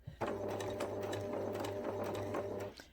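A sewing machine stitches a seam on fabric for a memory bear, running in one steady, fast needle rhythm for about two and a half seconds, close and fairly quiet, with no talk.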